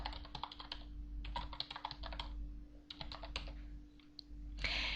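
Someone types a command on a computer keyboard in the Aardwolf MUD text game: bursts of quick, close key clicks in several rhythmic runs with short pauses, ending on a firmer keystroke, over a faint steady hum.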